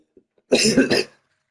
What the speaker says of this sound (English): before I got interrupted by my coughing